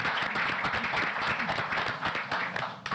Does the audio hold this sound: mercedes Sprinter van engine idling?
no